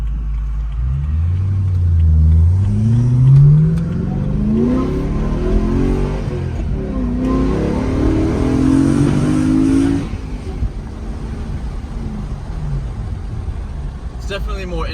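BMW E92 M3 fitted with a K&N cold air intake accelerates hard, its engine rumbling and rising in pitch through the revs before easing to a lower drone, heard from inside the car and loud throughout.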